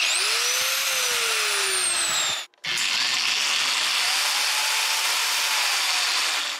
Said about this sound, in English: This big angle grinder is rated for 11 amperes, and it was able to just barely get it up to speed